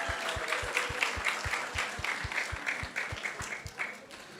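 An audience claps at a Krishna Katha gathering at ISKCON of Silicon Valley, with rhythmic hand claps in a steady even beat over a soft wash of scattered applause.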